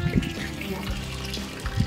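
Running water at a public drinking fountain in Zermatt, Switzerland, a steady splashing flow heard close by, with a person talking over it.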